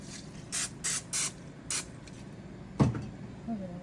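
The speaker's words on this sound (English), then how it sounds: "I'm gonna spray the pan with some of this" Cooking spray hisses onto a pan in four short, fairly close bursts, then one sharper knock follows before a quiet kitchen background.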